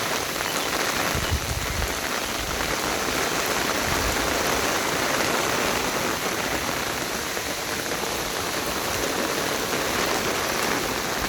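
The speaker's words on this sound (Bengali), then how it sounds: "কয়েকদিন ধরে বাংলাদেশে প্রচণ্ড বৃষ্টিপাত হচ্ছে নিম্নচাপের প্রভাবে।" Heavy monsoon rain pours steadily during a low-pressure spell in Bangladesh, a dense, constant hiss of drops drumming on surfaces nearby, loud and unbroken throughout with no voices.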